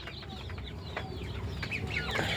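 Chickens on a small poultry farm cluck repeatedly in short, fairly faint calls over a constant low background hum, with no talking.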